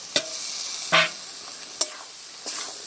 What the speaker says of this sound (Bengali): এবারে দিয়ে দিচ্ছি ভেজে রাখা আলু আর কুমড়ো ডাঁটা